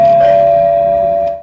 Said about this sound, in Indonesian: bersamaan dengan itu pula bel pintu berbunyi